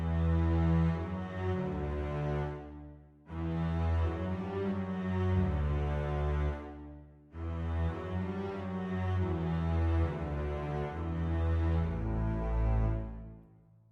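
A Beethoven melody figure played in a driving rhythm, three sustained, harmonically rich phrases with brief gaps between them, full and steady, with no voices.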